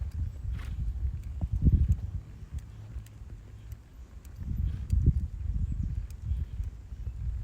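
A horse walks, its hooves clip-clopping in a loose, uneven rhythm alongside soft shuffling and outdoor ambience at moderate distance.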